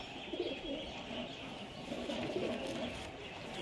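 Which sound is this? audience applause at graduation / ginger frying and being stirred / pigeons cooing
pigeons cooing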